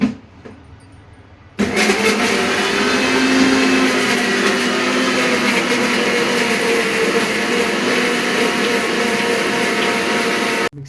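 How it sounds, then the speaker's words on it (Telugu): A kitchen mixer grinder whirs loudly while grinding fish masala gravy, starting abruptly after a brief quiet moment and running at a steady, close, high-pitched roar until it cuts off at the end. "ఫిష్ మసాలా ఇది గ్రేవీ మిక్సీ పట్టాలి"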